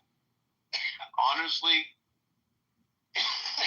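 A man on a politics podcast coughs and clears his throat in a couple of short, harsh bursts, close to the mic, with a brief spoken word between them.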